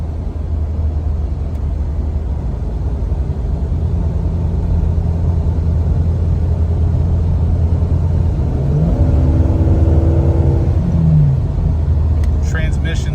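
Engine of a restored Jeep Cherokee XJ with an upgraded header, high-flow catalytic converter and high-flow exhaust, rumbling steadily at idle and then briefly revving up and back down, with someone talking over it.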